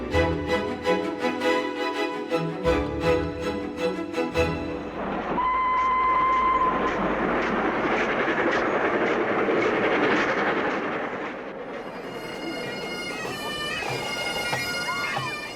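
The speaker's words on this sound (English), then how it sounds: "the nation's favourite steam engine is coming home to the National Railway Museum" Flying Scotsman steam locomotive on the move, a loud sustained rumble and rolling clatter of the train passing close, with a bright whistle tone sounding briefly partway through amid the roar.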